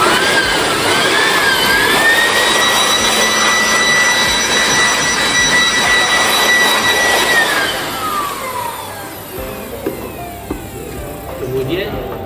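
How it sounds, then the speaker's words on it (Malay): Handheld air blower cleaning the LCD screen of a low-voltage main switchboard panel during breaker maintenance, a loud steady rushing whine that holds for about eight seconds, then drops away into quieter handling noises. "dengan menggunakan blower, kita blow LCD ini sehingga bersih"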